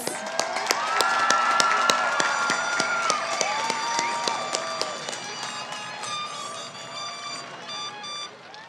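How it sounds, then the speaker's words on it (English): A large high school graduation crowd claps and cheers in a big venue, dense sustained applause with scattered whistles and sharp claps, loud and steady before gradually thinning toward the end. "give yourself another round of applause"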